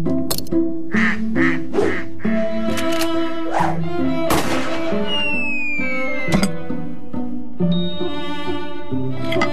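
Ducks quack repeatedly in a TV commercial about a hunter shooting at ducks, loud and close, with sharp gunshot-like bangs and whooshing effects mixed among the calls and no talking.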